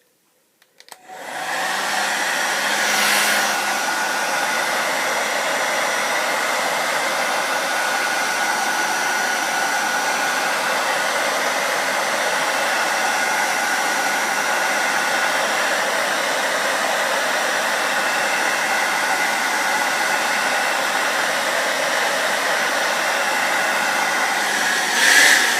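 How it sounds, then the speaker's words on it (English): A hairdryer blows steadily on a steelbook spine to soften the glue, a continuous loud airy whir with a faint motor whine holding evenly for the full stretch after a brief start-up. "move the hairdryer backwards and forwards several times, about 2 or 3 centimeters away from the spine, just to heat it up"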